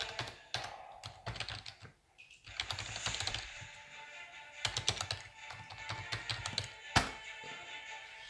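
Key presses rattle on a computer keyboard as login details go in for a cloud gaming service on a Samsung phone docked in a DeX Station: quiet, close, irregular bursts of tapping with short pauses and a sharper knock near the end.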